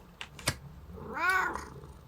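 A cat gives a short, clear meow with a rising then falling pitch, preceded by a couple of faint clicks, heard close and alone in a quiet room.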